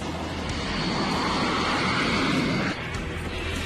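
Steady airliner engine drone in flight, a broad continuous roar filling the cabin with a slight dip near the end, no voices.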